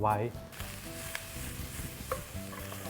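Shallots, garlic and tofu frying in rice bran oil in a pan, a steady close sizzle with stirring scrapes, while someone talks over the cooking.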